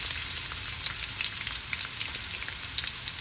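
Garlic sizzles in hot oil in a pan, the first step of sautéed bottle gourd with sardines, making a steady, bright, crackling hiss with scattered pops, close and continuous, with no talking.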